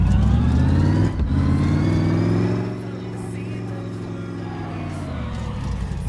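A V8 car engine in the garage simulator My Garage runs with a deep, steady harmonic drone, loud at first and then easing to a slightly softer, even hum as it keeps driving.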